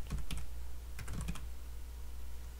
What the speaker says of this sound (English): the way I fixed it is I typed in internet